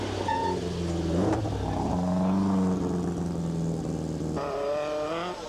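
A rally car on a gravel stage of the 1985 Cyprus Rally roars past near and loud, its engine revving up and down through gear changes with rising and falling pitch, alone without talk.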